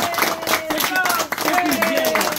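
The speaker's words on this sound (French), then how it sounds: "Applaudissez." An audience at a political party section meeting in the Bronx claps along, quick hand claps mixed with voices and tonal chatter in the room, fairly close and busy.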